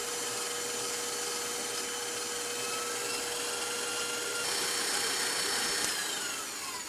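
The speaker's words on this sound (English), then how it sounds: "After adding the liquor, you accelerate slowly the speed of the mixing until it turns really white." Electric mixer whipping batter with added liquor for a crêpe omelette soufflé in a pastry kitchen: a steady, continuous whirring drone with a sustained motor tone, rising slightly in intensity toward the end, with no talking.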